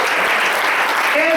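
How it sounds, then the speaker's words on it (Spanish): A church congregation applauds steadily and loudly in a worship service, dense clapping filling the space, with a sustained tone or voice emerging near the end. "Denle un aplauso al Señor."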